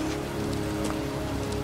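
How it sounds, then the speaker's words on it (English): Steady rain pours down in a cemetery in the video game Heavy Rain, a constant dense patter of drops on the ground heard alone, close and even throughout. "It's cold. It's raining."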